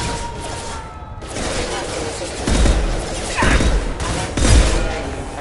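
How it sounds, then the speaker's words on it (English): Concussive shots fire in the Mass Effect 2 video game, three heavy booming thumps about a second apart over continuous battle noise and game music. "We got company. Firing concussive shots!"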